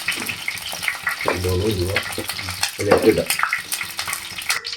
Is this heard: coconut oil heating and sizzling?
yes